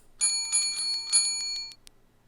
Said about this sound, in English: there's a little bell.